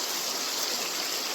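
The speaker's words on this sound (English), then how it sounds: "It's a beautiful little brook." A small brook in the Cape Breton backcountry flows steadily, a close, even rush and babble of running water with no other sounds.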